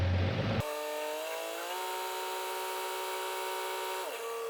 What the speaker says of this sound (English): So we do a little throttle spike here.